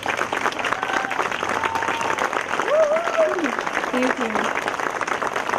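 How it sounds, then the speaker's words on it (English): Crowd applause at an outdoor park ribbon cutting, steady dense clapping throughout with a voice speaking briefly over it. "give an enormous round of applause"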